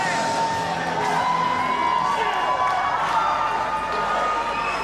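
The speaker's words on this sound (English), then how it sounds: "And this crowd is pumped." Pumped crowd at a CZW Combat Zone wrestling event cheering and whooping loudly as a wrestler enters the ring, a dense continuous roar with shouts rising throughout.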